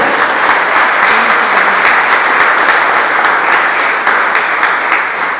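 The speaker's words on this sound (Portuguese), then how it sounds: "Dá uma salva de palmas para ele merece." A church congregation breaks into loud, sustained applause, a thick and even wash of clapping that keeps going without a pause.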